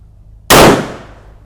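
A single .38 round fired at a shooting test, a sharp close crack that bursts out abruptly and trails off in a short, fading echo, with no talking.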